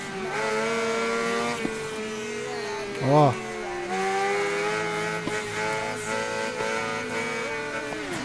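A carbureted Honda Hornet 600 motorcycle accelerates in the Ride 3 video game, a steady buzzing engine drone rising and falling in pitch, with someone talking over it throughout.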